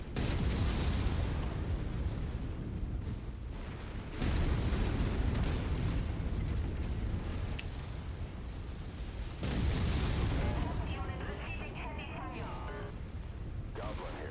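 Enemy mech blowing up in MechWarrior 5, heavy booming explosions and rumbling blasts that repeat in several loud bursts amid continuous battle noise, with a voice speaking under it.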